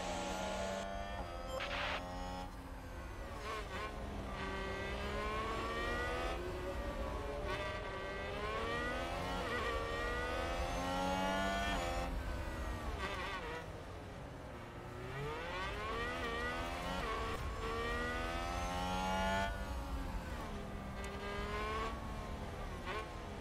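Race cars in the F1 Manager 22 video game scream past together, engines revving and shifting in dense overlapping layers, loud and continuous with rising and falling pitch sweeps and no talk.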